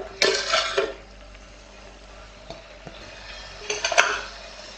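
Metal utensil scraping and clinking against a pressure cooker in a few bursts while green onion curry is mixed over high flame, with quieter stirring between, close by.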